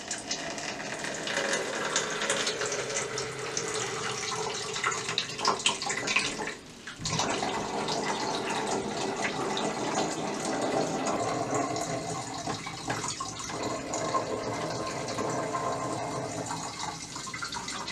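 Water pours steadily into a 2-liter plastic pop bottle, a continuous splashing gush that briefly pauses near the middle before resuming, close and fairly loud with no talk.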